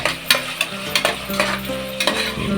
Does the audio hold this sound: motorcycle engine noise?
no